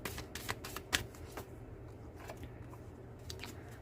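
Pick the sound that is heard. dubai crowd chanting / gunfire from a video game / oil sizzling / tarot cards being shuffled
tarot cards being shuffled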